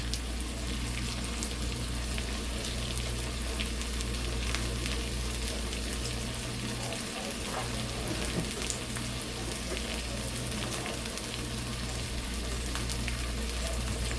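Steady, dense sizzling of salmon steaks and spinach frying in a pan, continuous and fairly close, with faint crackles throughout and no talking.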